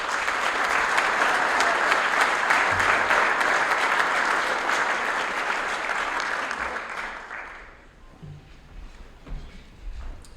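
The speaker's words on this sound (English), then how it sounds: "Round of applause for the Scholar Athletes." A dinner crowd honoring scholar athletes at a 2023 banquet gives a loud, sustained round of applause that carries for several seconds, then tapers off and fades into a quieter room.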